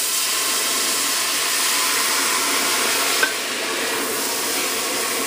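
Liquid added to a hot pressure cooker pan while making four cheese risotto, giving a loud continuous hissing steam and sizzle with one small click partway through.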